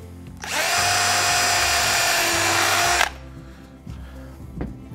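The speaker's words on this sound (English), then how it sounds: "just centre it up so it's right in the middle, drill down there" A power drill bores down through a freshly built roof truss on a BillyOh garden shed, a loud, close, high whine lasting about two and a half seconds before cutting off abruptly.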